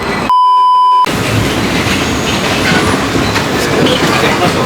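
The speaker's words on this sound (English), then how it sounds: "we just chilling on the subway" A moving New York City subway train: a loud, steady rumble with rattling clatter of the cars, heard from inside, with a brief dropout near the start.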